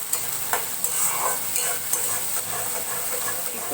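A spice masala is stir-fried in a pan with a bright steady sizzle and steam hiss, punctuated by a few soft scraping stirs, close and without talk.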